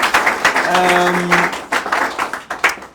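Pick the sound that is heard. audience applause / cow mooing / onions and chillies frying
audience applause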